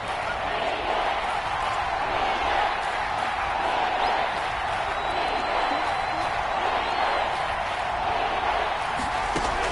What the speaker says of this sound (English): That's where this Cleveland crowd, the dog pound in particular, make it difficult on opposing offenses.